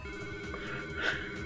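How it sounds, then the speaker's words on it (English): Telephone ringing inside the Sonic Adventure DX video game, an old-style electronic house-phone ring that pulses steadily over a low game music bed, with no talk. "I swear my phone in the 90s used to sound like that"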